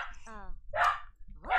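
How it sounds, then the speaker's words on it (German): A dog in The Sims 4 barks in short bursts, a few sharp yips spaced across the moment, loud and near, with speech-like sound mixed in. "Kann mein Hund aufhören zu bellen"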